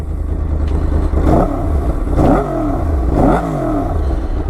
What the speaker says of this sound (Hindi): गाड़ी साउंड अलग करती है, रेगुलर इनलाइन फोर जैसा आवाज़ नहीं करती।